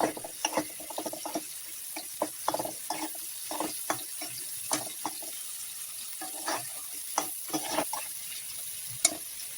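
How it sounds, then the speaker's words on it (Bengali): Prawns frying in oil in a pan, stirred with repeated scraping clicks and knocks over a steady soft sizzle, close up and without talk. "চিংড়ি মাছটা ভালো করে তেলের মধ্যে ভেজে নিচ্ছি"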